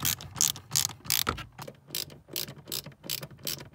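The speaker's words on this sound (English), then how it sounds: "I'm just gonna have to hold it in and screw those two bolts like into this bracket at the back there" A hand ratchet clicks in quick rhythmic bursts while tightening bolts into a fuse box panel bracket in a Ford ST150 van, close up with about a dozen distinct ratcheting strokes and no talk.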